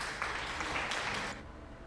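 Applause sound effect played from a stream sound button, a short, faint burst of crowd clapping lasting about a second before cutting off.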